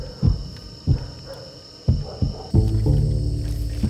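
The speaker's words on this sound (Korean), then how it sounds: "황소개구리입니다." Deep, resonant croaks of a bullfrog at night in a wetland, several low booming pulses spaced roughly a second apart, then a longer sustained call, loud and close with no talking.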